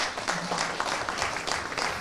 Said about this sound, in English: Can we please put our hands together for Mr.